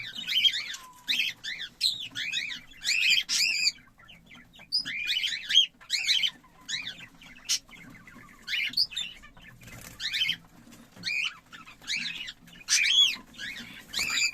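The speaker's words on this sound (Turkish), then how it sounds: "Yavrularımızı görüyorsunuz. Hepsi cıvıl cıvıl." Cockatiel chicks in a breeding setup chirp in repeated bursts of high, rapid peeping, near and fairly loud, with short pauses between clusters and no talk over them.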